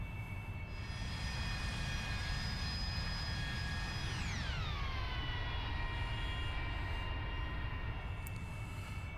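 Jet engine of an AV-8B Harrier in a flight simulator game, a steady loud roar with whining tones that glide sharply downward midway as the throttle eases back, then settle lower and hold.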